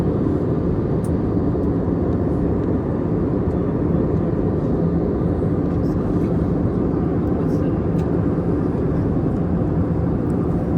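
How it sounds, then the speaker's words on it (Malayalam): Cabin drone of a passenger jet descending through clouds toward landing at Kashmir airport, a loud, unbroken low roar with a faint clink now and then. "മേഘങ്ങൾക്ക് നടുവിലൂടെ മന്ദം മന്ദം നീങ്ങിക്കൊണ്ടിരിക്കുകയാണ് നമ്മുടെ ഫ്ലൈറ്റ്"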